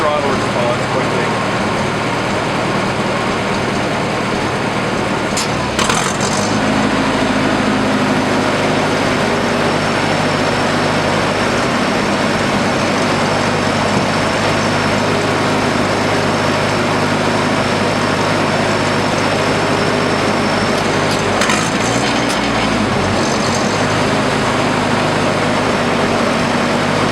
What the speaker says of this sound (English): sounds like the engine's skipping a little bit